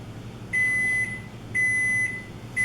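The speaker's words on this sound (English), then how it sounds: "Oh, that timer means 12 minutes have passed." Three loud, evenly spaced electronic beeps from a kitchen timer after 12 minutes of cupcake baking. Each beep lasts about half a second, with a quiet hum between them.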